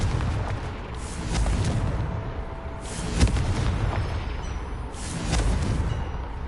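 Confringo spell explosions in Hogwarts Legacy, two or three heavy booming blasts with rumbling tails spread across several seconds, one sharp crack near the middle.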